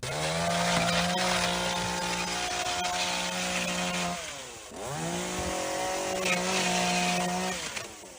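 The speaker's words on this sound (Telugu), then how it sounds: "బంగారం అసంటి తలుపు రంపం పెట్టి కోస్తున్నాడు" A motor saw cuts through a wooden house door with a loud, steady whining drone. It eases off briefly midway, then bites back in for a second pass, close and continuous, with no voices.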